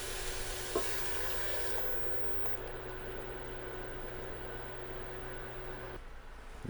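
Tomatoes drop into a hot pan for spaghetti sauce, setting off a steady hiss of frying and sizzling with a faint stir near the start, fairly quiet and continuous before the sound dips toward the end.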